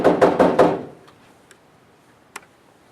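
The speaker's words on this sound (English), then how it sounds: "I knock on their door." Four quick knocks on a house door, close and sharp, followed by near silence with a couple of faint small taps.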